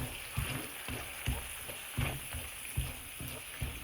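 Ground masala for coconut mustard rice is stirred in a pan with a spoon, making regular scraping strokes about once every second. A soft, quiet sizzle runs underneath.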